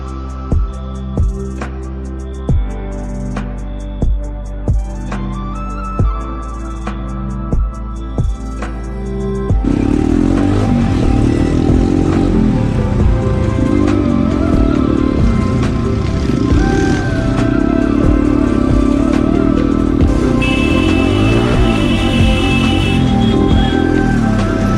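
Motorcycle riding on the return trip from Naubise Jharana in Nepal: after a few sharp knocks, a loud, steady engine roar with wind noise starts up and continues close by to the end.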